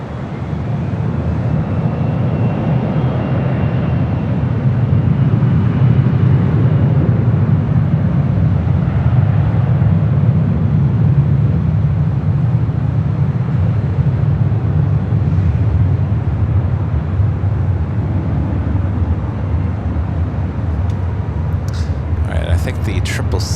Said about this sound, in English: The 777 heading. That's the big cute cargo flying over us heading to the south side.